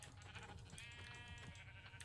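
Sheep bleating in the Minecraft video game, a few short wavering bleats heard close and clear over a quiet background, with no talking.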